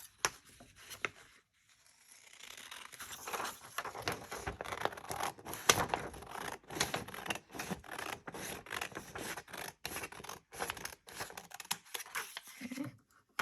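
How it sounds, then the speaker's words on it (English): Scissors cut through folded paper at close range, giving a run of quiet crisp snips and rustles with short pauses between cuts. "you can use your scissors to cut it"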